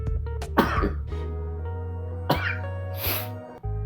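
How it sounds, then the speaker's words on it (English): One person coughs and clears their throat before letting out a few harsh, close sneeze-like bursts, with short breaths and pauses in between. "Hold on a second, let's sneeze."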